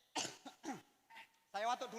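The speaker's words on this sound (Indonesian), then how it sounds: "Saya watuk dulu Bu ya." A man coughs a few times in short bursts at close range, with a brief voiced sound and throat noise between the coughs, set during an Islamic sermon or talk.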